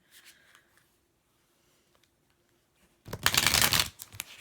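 After a few quiet seconds with faint rustles, a tarot deck is shuffled close up, a loud papery riffle lasting about a second and a half.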